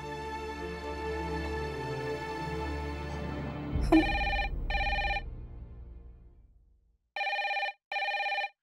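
A telephone rings in a home: several bursts of electronic bell tones that start as music fades out, with a pause and then two more rings.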